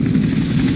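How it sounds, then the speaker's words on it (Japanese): A helicopter in the video game Detroit: Become Human thrums loudly and continuously, a heavy low rotor drone with a steady pulsing beat heard up close. "うわぁ、ヘリコプターからも撃たれる、もしかしてこれ。"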